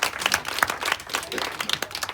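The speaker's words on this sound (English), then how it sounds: "Round of applause for the lovely girls." Wedding guests give a short round of applause for the flower girls: close, fairly sparse hand claps with individual slaps standing out, over about two seconds.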